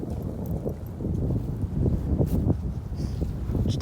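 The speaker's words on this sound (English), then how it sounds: "it's kind of windy out" Gusty wind blows outdoors on a farm on a cold day, a steady low rumble and buffeting lasting the whole clip with faint rustling and no talk.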